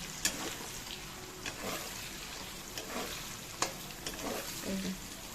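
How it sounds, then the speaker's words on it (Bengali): Chopped egg frying in a pan with a steady gentle sizzle, broken by sharp clicks and scrapes of a spatula stirring at irregular intervals, a voice briefly audible. "আমার ডিম কুচানো হয়ে গেছে জাস্ট এটা ভাজা ভাজা হবে"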